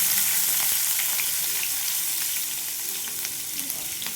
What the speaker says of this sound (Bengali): দেখো আমি জিরে ফোড়ন দিয়ে দিলাম, আর আমি দেব পেঁয়াজ